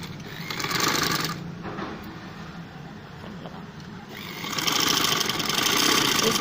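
A sewing machine stitches the seam of a jhabla frock up to the shoulder. Its soft, steady whirring runs in stretches, easing off in the middle before picking up again.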